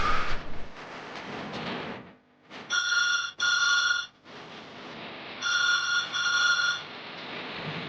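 A telephone rings in repeated double bursts, two rings then a pause and two more, loud and close over a quiet indoor room tone in a Kannada TV serial scene.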